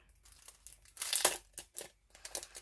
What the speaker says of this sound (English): These are Maggie Holmes crepe paper.